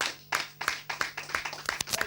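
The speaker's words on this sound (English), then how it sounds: "Round of applause for them, please." A studio audience on a Nigerian television quiz program applauds the contestants with a handful of sharp, separate claps spaced out over a low steady hum, short and modest in volume.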